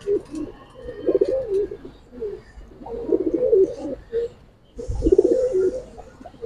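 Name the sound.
silver pigeons cooing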